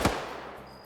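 A single sharp grenade explosion in a video game, a sudden loud blast at the very start that fades quickly into a brief tail.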